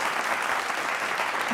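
Brief burst of dense clapping from an audience, steady and even throughout, with no voices over it.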